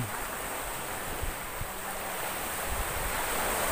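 Sea waves wash against the shore near a ferry harbour, a broad, steady surf roar with some wind buffeting the microphone, continuous and fairly loud with no voices.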